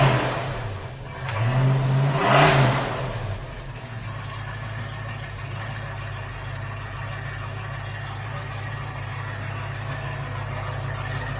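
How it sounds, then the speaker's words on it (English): A 1971 Ford Mustang Mach 1 at a car show revs once with a rising, throaty burst, then drops back to a steady, rumbling idle that carries on with a faint whine above it. "I'm going to rev it up a little bit."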